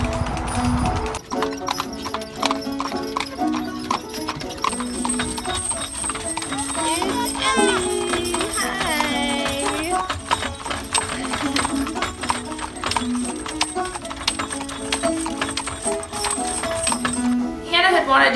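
Horses pulling a stagecoach clip-clop steadily throughout, their hoofbeats mixed with music and ambient noise.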